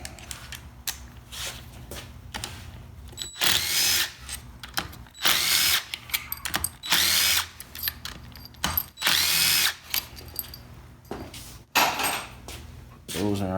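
A power tool fitted with a socket spins out bolts on a 4L60E transmission being disassembled, giving loud repeated whirring bursts of a few seconds each with short pauses between, up close in a workshop, with brief talk between runs.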